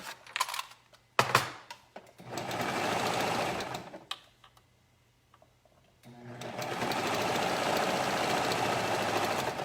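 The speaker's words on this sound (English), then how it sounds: "I'm gonna start sewing on this weird little cut here in the middle, and then around the leg and up the other side" A sewing machine stitches legging fabric in two sustained whirring runs, separated by short clicks and handling noises and a quiet pause, close and fairly loud.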